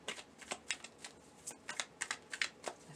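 Tarot cards pulled and shuffled from a deck: a quick run of soft, crisp papery flicks and snaps close by, irregular and fairly faint, with no talk.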